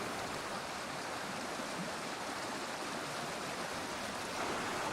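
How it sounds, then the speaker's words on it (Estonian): The Vasaristi waterfall cascade on the Vasaristi stream in Lahemaa National Park gives a steady, dense rush of falling water, a constant broadband roar with no breaks, heard alone. "Vasaristi joastik asub samuti Lahemaa rahvuspargi maa-alal Vasaristi ojal"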